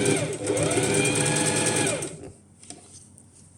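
Sewing machine fitted with a zipper foot stitching fabric during a clothing alteration, a fast, close whirring run for about two seconds that then stops abruptly, leaving quiet handling sounds.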